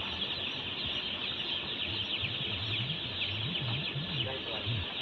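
Broiler chickens in a poultry house, with a dense chorus of soft clucks and peeps over a constant high hiss of fans or equipment, and a low voice faintly underneath.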